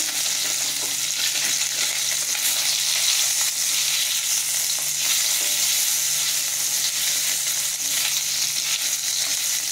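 Fish pieces and eggplant slices fry together in hot oil, producing a dense, even, loud sizzle that runs unbroken and close throughout.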